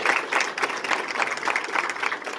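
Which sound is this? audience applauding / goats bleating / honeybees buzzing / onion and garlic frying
audience applauding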